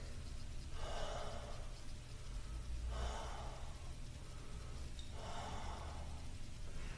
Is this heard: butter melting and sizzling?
no